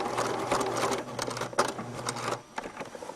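A sewing machine back stitching through a double-thick elastic casing, its rapid mechanical needle chatter running steadily and close up, then stopping shortly before the end.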